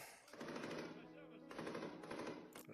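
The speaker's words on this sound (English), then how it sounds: "There's gunshots." Rapid bursts of gunfire crackle almost without a break, like automatic weapons firing in sustained volleys, dense and continuous across the whole stretch.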